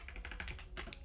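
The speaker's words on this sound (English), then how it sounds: "go to the message and then type in look for puts" Quick run of light keystrokes on a computer keyboard, about a dozen close, crisp taps in an uneven burst, alone with no talk.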